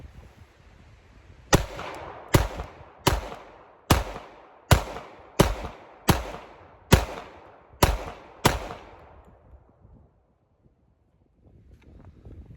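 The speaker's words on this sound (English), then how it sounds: "first up is the Glock 21. Let's see how she shoots" Ten sharp shots from a Glock 21 .45 pistol ring out at a steady pace of roughly one every 0.8 seconds, each loud crack trailing into a brief outdoor echo, followed by a quiet stretch with light wind.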